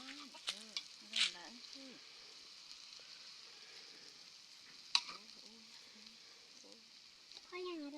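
Vegetables and egg stir-fry in a pan with a faint, continuous sizzle, a few sharp clinks of the utensil, and soft voices heard in the background.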